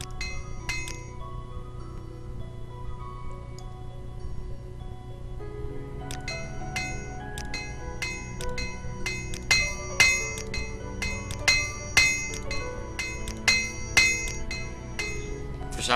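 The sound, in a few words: equipment being repaired in Morrowind video game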